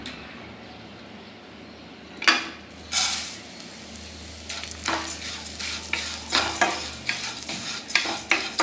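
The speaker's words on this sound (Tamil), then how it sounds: "கொஞ்சமாக நெய் ஊற்றி நம்ம இந்த அவலை வறுத்து எடுத்துக்கலாம்." Flattened rice (aval) roasts in a little ghee in a pan, a low hiss that turns into repeated scraping and stirring strokes with sharp metallic clinks, growing busier and louder toward the end.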